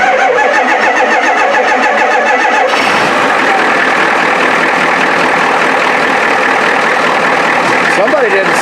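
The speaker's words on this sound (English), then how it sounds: "lovely assistant, would you start the truck" A 1989 Ford F350 pickup with the 7.3 IDI diesel starts up: a short crank, then the engine catches loudly and settles into a close, rough, clattering idle.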